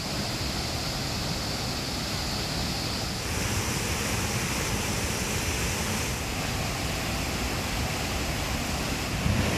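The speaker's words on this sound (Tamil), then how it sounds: "திருப்பரப்பு அருவியில் தண்ணீர் ஆர்ப்பரித்து கொட்டி வருகிறது" The Thirparappu waterfall gushing after days of heavy rain, a loud, unbroken roar of falling water that fills the whole stretch without pause.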